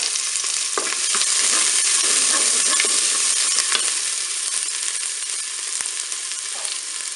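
Onions sautéing in a Cookeo multicooker give a steady close sizzle that runs the whole time, with scattered crackles and a few stirring scrapes.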